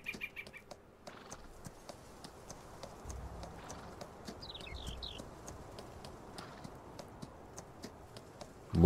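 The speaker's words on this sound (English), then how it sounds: "Just trying to get used to riding a horse here." A horse's hooves clip-clop faintly in Farming Simulator 19 as it is ridden out of a stable, with soft bird chirps in the background and no voices.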